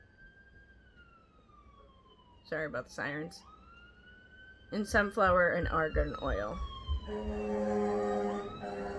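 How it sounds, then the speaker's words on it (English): A fire truck siren wails in the distance, three houses from a fire station, its tone sliding up and down and later pulsing rapidly, while a person talks over it at times. "That was a fire truck."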